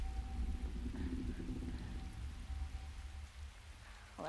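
Steady rain falls at night in the game Resident Evil 2 Remake, a soft, continuous patter with low rumbling beneath, ending with a brief rising tone.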